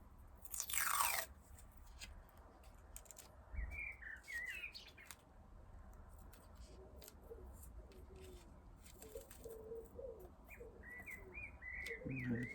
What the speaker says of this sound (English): pigeons have joined in out there now.